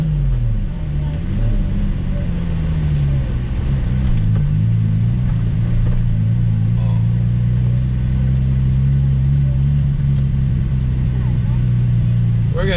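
An Audi car drives on a snowy day toward a service center, heard from inside as a steady, loud low engine and road drone with no breaks.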